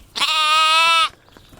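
A sheep gives a single loud, close bleat lasting about a second, with a strong wavering tone, followed by quiet outdoor ambience.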